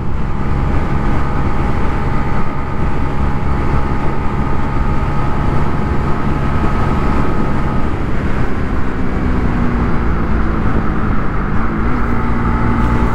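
A Honda RSX 150cc DOHC motorcycle engine drones steadily and loudly while riding, its tone dropping and shifting partway through as the rider downshifts through the gears.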